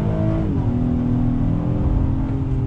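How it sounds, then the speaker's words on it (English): A 2020 Acura MDX A-Spec SUV accelerates on throttle in drive, its engine note rising steadily with a clear upshift early on, then a sustained, loud drone from inside the cabin with no talking. "But let's see how acceleration works. On throttle, just gonna leave it in drive."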